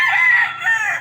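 A rooster at a game farm crows once, loud and close, a single drawn-out call held for about a second with a slight dip midway, no voices.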